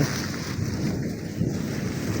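Low thunder rumbles through a heavy village rainstorm, blended into a dense, constant wash of falling rain and wind that stays loud throughout with no talking.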